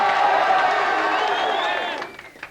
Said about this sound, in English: Give them a cheer, come on